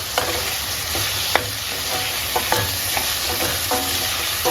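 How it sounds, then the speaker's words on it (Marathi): Onion and tomato masala for dum aloo sizzles steadily in a pan, a continuous close frying hiss broken by a few soft clinks of a stirring spoon. "टोमॅटो मऊ होईपर्यंत हे आपल्याला व्यवस्थित भाजून घ्यायचं"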